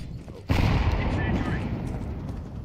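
A flashbang grenade bursts in a Counter-Strike (CSGO) match, a sudden loud broadband blast that cuts in after a quiet lead and lingers as a dense ringing, rumbling wash for about two seconds.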